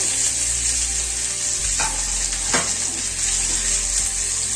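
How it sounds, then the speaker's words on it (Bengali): Paneer cubes fry in hot oil for a paneer curry, a loud, constant close sizzle with a couple of sharper spatters and clinks as the pieces shift. "পনিরগুলো আমরা আস্তে আস্তে ফ্রাই করে নেব"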